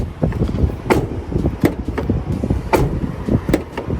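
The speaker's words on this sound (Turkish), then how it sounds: "Öncelikle kapımız bu şekilde açılıyor. Kapanma sesi ve açılma sesini bu şekilde sizler duyabilirsiniz." A van's sliding side door, a VW Crafter or Mercedes Sprinter, is worked through a series of sharp, close thumps and clacks with rolling rumble between them, as the door slides open and shut.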